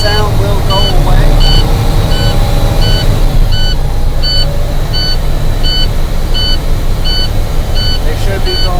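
A truck's low air pressure warning beeps in a steady, evenly spaced series of short high tones while air brake pressure builds. An idling diesel rumbles underneath, with a voice briefly audible early on.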